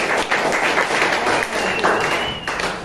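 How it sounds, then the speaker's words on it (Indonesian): Classroom applause for a presenting student group, loud close-up clapping from many hands that continues throughout and tapers slightly at the end. "kita beri aplaus untuk kelompok"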